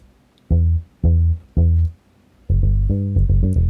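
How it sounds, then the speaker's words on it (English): Deep, plucky synth bass notes with a short muted attack: three separate hits, then a busier run of bouncing notes, loud and close with no voices. "palm muted bass, sounds like this."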